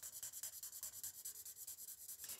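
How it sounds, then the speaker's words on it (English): Quick, rhythmic scratchy strokes of a colored pencil rubbing back and forth over a dried marker undercoat on paper, soft and close. "going over it with some pencils"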